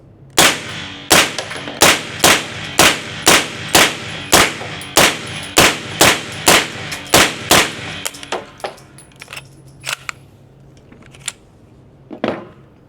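Rapid, evenly spaced gunshots from an H&K SP5K pistol ring out loud and close, about fifteen sharp cracks at a steady pace, then a few scattered clanks and lighter knocks as the firing stops.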